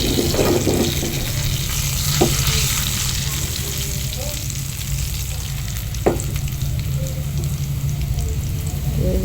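Onion and garlic sizzle loudly in hot oil for a baghar tempering, a dense continuous crackle with a couple of sharp clinks from stirring, up close and without talk.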